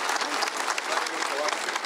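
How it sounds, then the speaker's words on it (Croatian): A crowd at a political gathering in Serbia applauds, a dense steady patter of many hands at moderate level, with a voice partly audible beneath it. "zaslužuje poseban pozdrav i aplauz"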